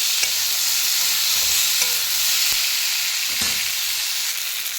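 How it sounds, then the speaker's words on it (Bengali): Potatoes with turmeric powder frying in a pan, a loud continuous hissing sizzle with occasional spatula scrapes and knocks, close up and without talk. "হলুদ গুঁড়ো দিয়ে দিচ্ছি দিয়ে ভালোভাবে চেঁচিয়ে নিচ্ছি"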